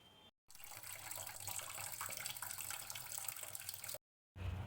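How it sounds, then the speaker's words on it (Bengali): Tap water runs steadily into a kitchen sink during morning dishwashing, a close continuous splashing stream that cuts off briefly near the end, with no talking. "ঘুম থেকে উঠিয়ে আমি চলে গেলাম রান্নাঘরে বাসন মাজতে"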